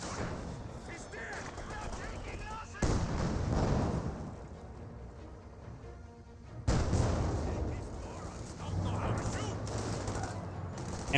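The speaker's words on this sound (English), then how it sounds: "Next mortar may get a good hit. Does get decent hit on the Panzer Grenadiers." Mortar and artillery fire in the World War II strategy game Company of Heroes 2 booms in two heavy blasts amid scattered gunfire, under steady commentary.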